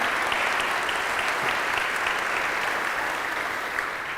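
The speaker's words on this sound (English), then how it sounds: "will you again honor her presence with just a little applause" Church conference audience applauding at an annual gathering, a steady wash of many hands clapping at full volume throughout, tapering slightly at the end.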